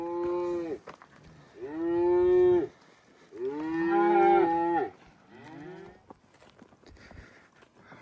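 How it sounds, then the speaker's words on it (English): Hungry cows moo in a pasture: four loud, drawn-out bovine calls follow one another at close range, with faint hoof and footstep sounds between them and no talking. "these cows are hungry, and they're just gonna go right to eating the grass."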